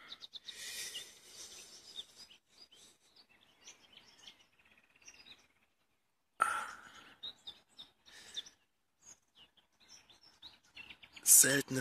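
Birds sing near a lake on a hot April day, with scattered chirps and short calls at moderate distance, broken by quiet gaps and brief louder bursts, including a sharp close call at the end.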